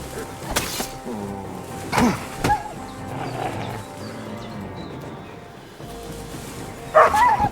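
A dog in Kingdom Come: Deliverance II lets out a few sharp barks spaced across several seconds, mixed with other game sounds and some brief speech.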